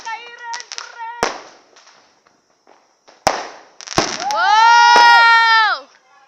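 New Year fireworks burst with several sharp, loud cracks spread across the clip, followed by a long rising, sustained whistling shriek. Faint voices are heard early on between the bangs.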